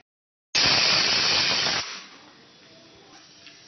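A pressure cooker cooking sweet corn lets out a loud, sharp blast of steam hiss that lasts just over a second, then drops to a softer, steady hiss that trails on.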